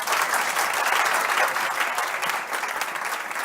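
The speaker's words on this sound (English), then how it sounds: "If we give them a round of applause, thank you." Audience applause following a panel session on legal services, a continuous wash of many people clapping at steady loudness, heard alone without speech.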